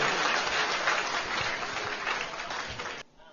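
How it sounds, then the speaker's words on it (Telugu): Sustained audience applause at a Sai devotional satsang gathering in Nellore, a dense even wash of clapping for about three seconds that cuts off abruptly near the end. "ఒకసారి చప్పట్లు కొట్టండి ఆ మాటకి."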